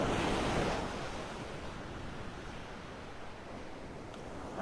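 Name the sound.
ocean waves breaking on a beach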